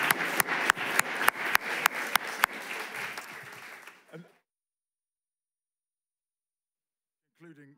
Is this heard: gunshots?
no